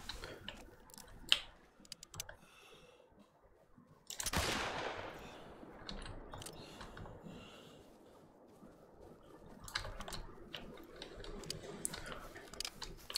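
Rifle shots in the hunting game The Hunter Call of the Wild, with one sharp report followed later by a louder blast with a long rolling echo, set among quiet ambient ticks and soft movement sounds.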